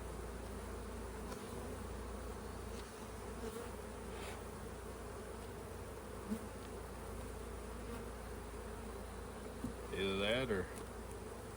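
Honey bees humming steadily in an open hive, a dense continuous drone close by, with a man's brief words near the end.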